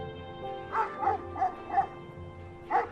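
A dog barks five times in a quick, even run with a short pause before the last bark, heard over a steady low background hum.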